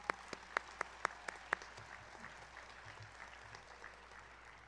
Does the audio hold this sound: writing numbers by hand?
no